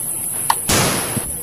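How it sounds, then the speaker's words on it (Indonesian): A toy M16 gun fires with a single short electronic burst of noisy shooting sound, preceded by a small click. "yang ini tembakan M16"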